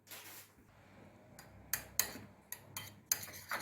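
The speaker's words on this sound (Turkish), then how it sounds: "2 çorba kaşığı yoğurt aldım tabağıma. 1 tane de yumurta sarısı, iyice karıştıralım." Spoon mixing yogurt and egg yolk in a plate, a series of sharp clinks and taps of metal against the dish, irregularly spaced and close, with no speech.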